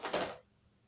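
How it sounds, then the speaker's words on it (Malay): Boxes tumble and fall beneath a staircase in an outer room, a brief loud clattering burst that quickly dies away to near silence. "Banyak bunyi kotak jatuh ya, seperti yang anda dengar tadi"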